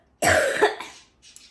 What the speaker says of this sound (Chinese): 到现在一直就是咳嗽